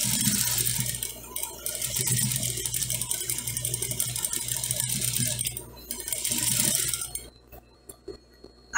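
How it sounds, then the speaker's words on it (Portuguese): A sewing machine stitching a seam on fabric trim, its fast mechanical rattle running continuously for about seven seconds before it stops, leaving quiet handling noises. "vou passar uma costura de um pé de máquina"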